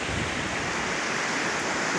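Big waterfall on the White River in Washington roaring as a steady, dense broadband rush of falling water, close and loud throughout with no talk over it.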